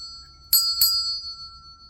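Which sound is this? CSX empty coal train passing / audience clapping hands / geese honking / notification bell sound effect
notification bell sound effect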